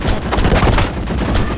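Rapid bursts of gunfire from the mobile shooter game Battle Prime crackle densely through a short, loud stretch, with overlapping shots and no clear gaps.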